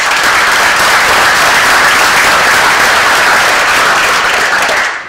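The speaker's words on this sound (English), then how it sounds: "a round of applause for our chief for being here" A crowd at a Veterans Day ceremony gives the police chief a loud, dense round of applause that holds steady for several seconds before cutting off at the end.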